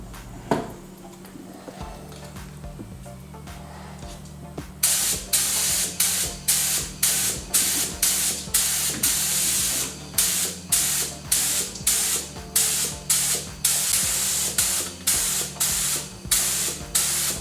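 A spray gun lays base coat paint onto a Porsche bumper at home, a loud steady hiss in rapid repeated bursts after a quieter opening stretch of faint background noise, close by and without speech.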